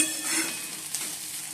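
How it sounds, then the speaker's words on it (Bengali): Potatoes and onions frying in oil in a kadai, a soft steady sizzle with light stirring scrapes, moderately quiet and heard alone without any voices. "এই বন্ধুরা উচ্চ আলু ভাজা হয়ে গেছে আর পেঁয়াজও দিয়েছি"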